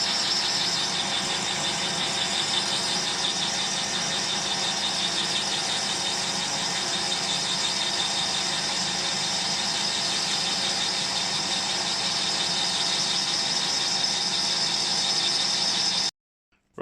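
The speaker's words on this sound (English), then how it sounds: "I'm just turning the diameter down to fit into the hub" A metal lathe turning down the diameter of a phosphor bronze bearing for a model traction engine hub, a steady loud whirring drone with a high cutting squeal held evenly throughout, cutting off abruptly at the end.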